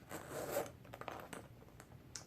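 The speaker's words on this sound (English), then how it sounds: "they don't make these zippers like this anymore where they're solid brass" Short scratchy zips of a solid brass zipper on a Louis Vuitton bag, a longer pull first, then several quick faint tugs and clicks, close up and quiet with no talking.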